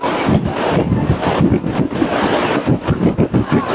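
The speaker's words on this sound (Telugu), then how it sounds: "గుర్రాలు పరిగెత్తినట్టు ఉంది వాటర్ మా చూడండి గంగమ్మ హోరెత్తిపోతుంది" Floodwater surges through the open gates of the Srisailam dam in a heavy, continuous roar, with gusting wind buffeting the microphone throughout.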